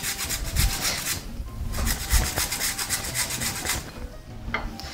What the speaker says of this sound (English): I like to grate some carrots like that.